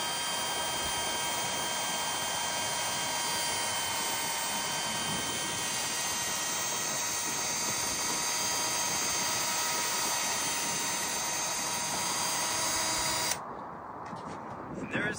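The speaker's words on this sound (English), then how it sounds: "Now I'm going to use my spin it off in order to remove the magnetite." A spin-off machine removing magnetite from gold concentrate gives a loud, steady mechanical whir and hum that runs unbroken, then cuts off sharply near the end, leaving quieter rattling.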